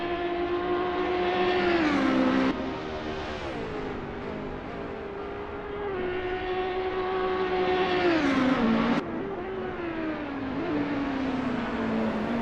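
Race car engines at Monza in a Gran Turismo race, including a Bentley, a loud continuous engine drone that rises in pitch and drops sharply at gear changes, with no talk.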